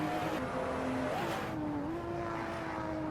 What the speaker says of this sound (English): That was revving a little bit too high